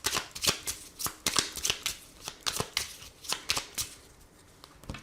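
Close, steady riffling of Lenormand cards being shuffled, a quick run of crisp flicks in uneven bursts, alone without talk.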